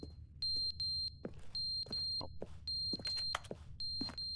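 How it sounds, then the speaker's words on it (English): Electronic alarm beeping inside the GTA V video game, a series of short high-pitched tonal beeps in a steady repeating rhythm, interleaved with brief clicks and game noises over a low background hum. "It was flashing earlier, now it's beeping."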